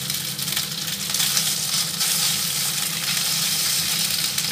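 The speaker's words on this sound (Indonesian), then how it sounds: "Kita tumis sampai bawang putihnya wangi." Steady loud sizzling and frying of garlic in a hot iron wok with light scraping of stirring, continuous and close, no voices.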